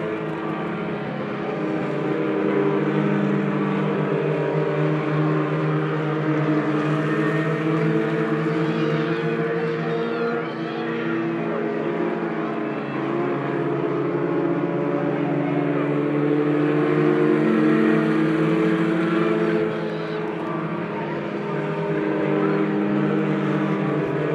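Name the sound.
race cars at Lebanon I-44 Speedway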